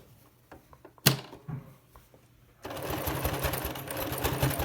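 A domestic sewing machine stitches a fabric face mask with a filter, starting with a few slow, halting stitches and a sharp clunk, then running steadily in a fast, close whir.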